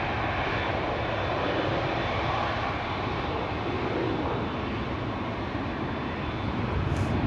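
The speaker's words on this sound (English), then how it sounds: "This jet taking off from runway 22, causing the hold up here on 18 left." A jet airliner takes off from runway 22 at Amsterdam Schiphol Airport, a steady loud broadband engine roar sustained throughout without a break.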